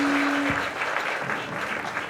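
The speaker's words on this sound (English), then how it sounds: "So once again, a big round of applause" A seated audience at a public talk applauds in a steady, dense wash of clapping that stays moderately loud throughout the short stretch, with no voices standing out.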